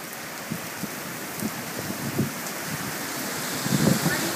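Powerful Hurricane Sandy wind roars at Wildwood Crest, a steady broadband rush with rain-like patter and a few stronger gusts swelling near the end.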